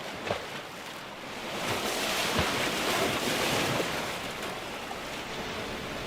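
Sea waves wash steadily against a wild coastline, a broad continuous rushing surf swelling and easing, mixed with gusts of wind buffeting the microphone and no voices.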